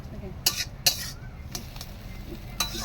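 Ash gourd curry stirred in a pan over a clay stove, a few sharp spoon-on-metal scrapes and clinks over a low sizzle, close and moderately loud.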